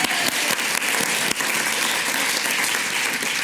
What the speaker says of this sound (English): So for Becky, let's give a big round of applause.